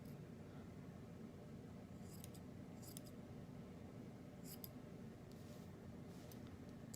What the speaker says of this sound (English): but I prefer to use scissors